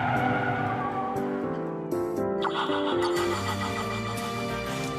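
A 2006 Honda Civic Type R understeering on a test track, its tyres squealing and scrubbing in drawn-out, wavering tones over the engine note, loud and close.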